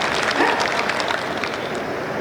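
Audience applause at a live Hindi poetry recital, a steady, dense wash of clapping from a crowd that holds evenly for about two seconds without any voices over it.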